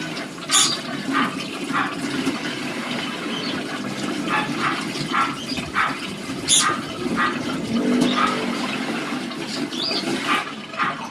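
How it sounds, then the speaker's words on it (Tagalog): Root crops being rinsed in water in a home kitchen: continuous sloshing and splashing with intermittent clatter, fairly loud and close, with no talking. "Binabanlawan ko na lang yan. Nahugasan ko na yan ng isang beses."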